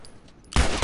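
A single loud gunshot in the video game The Last of Us Remastered, a sudden close blast with a short rumbling tail after a quiet moment of faint background tones.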